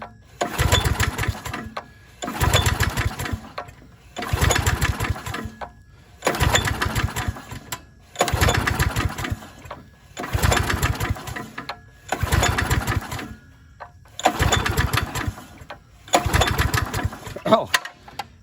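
A Manco Fox go-kart engine is cranked about eight times in a steady rhythm, each pull a loud, chugging, sputtering burst lasting around a second and a half, separated by short pauses, without the engine catching.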